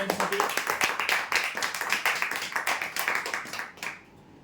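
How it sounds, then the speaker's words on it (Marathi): Clapping at a weekly prize-draw event as a winner of a 3x6 bed is announced, a fairly sparse round of hand claps from a small group that fades out near the end. "जोरदार टाळ्या होऊ"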